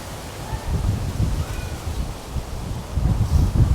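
Gusty wind rumbles and buffets the microphone in low bursts, with faint rustling outdoors in a garden by a greenhouse.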